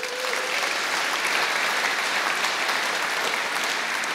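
A conference audience at a Drupal keynote applauds the event's sponsors with loud, continuous, dense clapping that holds at an even level for several seconds, with no speech on top.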